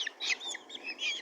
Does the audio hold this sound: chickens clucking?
yes